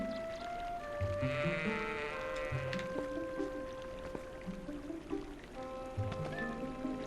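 Goat bleats in The Legend of Zelda: Twilight Princess HD, several wavering cries in a row over soft game ambience and trickling water, fairly close and clear.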